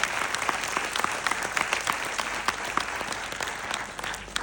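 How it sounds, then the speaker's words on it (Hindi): An audience bursts into loud, steady applause at a motivational business talk, with dense clapping sustained throughout and no speech over it. "अगर लगता है तो तालियां होनी चाहिए एक बार जोरदार"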